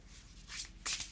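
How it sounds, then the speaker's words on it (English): Quiet riffling bursts of a slippery, foil-finished tarot deck being shuffled, with a sharper flurry near the end; close and soft, no talking. "this way of shuffling is fine"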